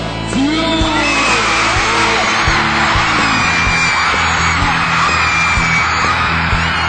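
Loud, continuous yelling and shouting from a crowd, with overlapping voices rising and falling throughout and no pauses.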